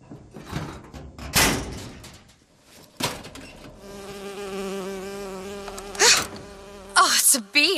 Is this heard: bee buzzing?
yes